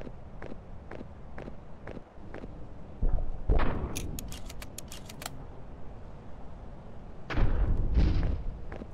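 Double-barrel shotgun blasts at nutcrackers in a Christmas tree lot video game, two loud booming shots a few seconds apart, preceded by a regular run of footsteps and a bright metallic rattle after the first shot.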